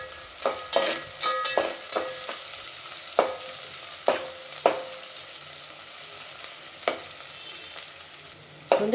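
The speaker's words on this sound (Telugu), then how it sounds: "కొంచెంసేపు వేగిపోతాయి ఆనియన్స్ కొద్దిగా సాల్ట్ వేసుకుందాము" Onions fry with a little salt in a pan for pulao, giving a steady soft sizzle punctuated by sharp clicks and scrapes of a utensil stirring against the pan.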